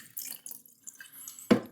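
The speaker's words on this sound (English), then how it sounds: "we'll keep pushing the water all the way through this hose" Water drains from a 35-quart commercial mop bucket through a hose in soft, intermittent trickles and drips, ending in one sharper splash.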